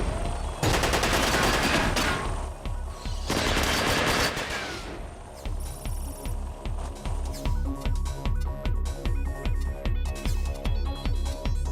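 Gunfire aimed at a helicopter in the mecha game Front Mission 5: two long, dense bursts of rapid shots, followed by a steady run of evenly spaced heavy rounds under a rhythmic game soundtrack, loud and close.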